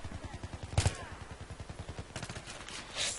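Rapid automatic gunfire in Battlefield 3, a steady rhythm of close, loud bursts with a couple of sharper heavier shots and a brief lull, no one talking.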